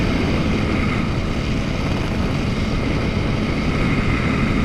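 Flexwing microlight aircraft engine running steadily, a loud, close, unbroken propeller drone with wind rush over the microphone and no talk.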